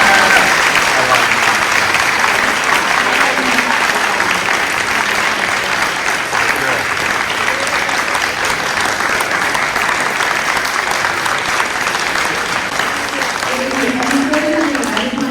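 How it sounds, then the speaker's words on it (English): Long, loud applause from the audience at a school board candidate forum, a thick continuous wash of clapping that stays steady throughout, with murmured voices mixed in underneath. "Let's give them a huge round of applause"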